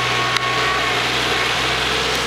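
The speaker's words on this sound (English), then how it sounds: "finally got the tractor working" A repaired tractor engine runs loud and close, holding a steady droning idle with one brief knock partway through.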